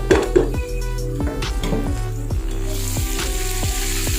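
Ginger-garlic paste and green chilies hit onions already frying golden in a pot for kala chana pulao, producing a steady, close sizzle with scattered clicks and stirring scrapes throughout.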